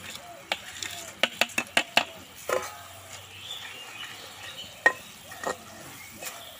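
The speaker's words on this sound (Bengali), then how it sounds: "নাড়িয়ে চাড়িয়ে কিন্তু সিরাটা শুকনো শুকনো করা লাগবে" Sugar syrup being stirred in a pan while making boondi laddu, with a quick run of sharp spoon scrapes and taps, then scattered single knocks over a soft sizzling background.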